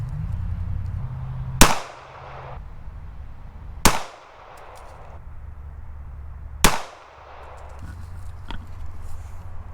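Three sharp pistol gunshots from a handgun fitted with a Bushnell RXS 100 red dot sight, spaced a couple of seconds apart, each a loud crack with a short decaying tail over low background rumble.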